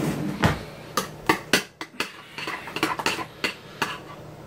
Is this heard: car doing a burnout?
no